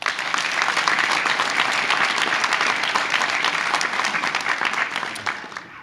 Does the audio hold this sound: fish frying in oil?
no